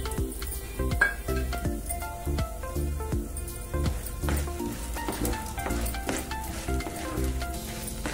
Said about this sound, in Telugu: ఆయిల్ హీట్ ఎక్కాక 2 స్పూన్లు పచ్చిశనగపప్పు వేసుకోవాలి.